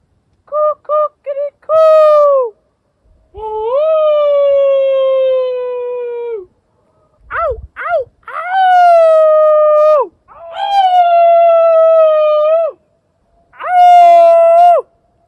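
People on a mountain slope overlooking a glacial valley let out a series of long, drawn-out imitation wolf howls, loud and near, rising and sliding in pitch with short gaps between calls.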